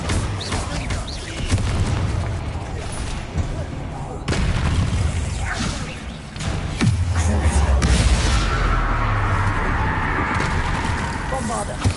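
The Bombarda explosion spell going off in Hogwarts Legacy during a fight with spiders, heavy booming blasts rolling through dense game noise, with a voice shouting over the chaos.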